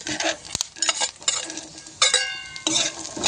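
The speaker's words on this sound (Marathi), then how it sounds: "बटाटे आणि शेंगदाणे दोन्ही पण मिक्स छान फ्राय होऊन करून घ्यायचे" Potatoes and peanuts fry in a pan and are stirred, with uneven scraping and clattering bursts over a soft sizzle, close up and without talk.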